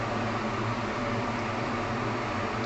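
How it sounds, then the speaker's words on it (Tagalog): An air fryer cooking chicken wings gives off a steady, even whir of fan and hot air with a faint low hum and no voices. "ilagay natin sa air fryer"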